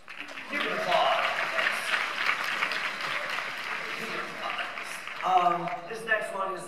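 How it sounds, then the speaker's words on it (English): Keynote audience at a creator convention breaks into applause, a fairly soft, steady patter of clapping that swells and lingers, with a voice resuming speech as it fades near the end. "You can applaud."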